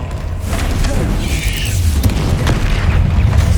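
A Confringo fire spell goes off in Hogwarts Legacy, a loud, rumbling blast with a sustained low boom and crackling that fills the whole short moment.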